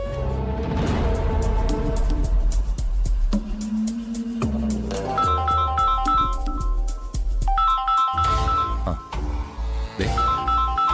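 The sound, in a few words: phone ringtone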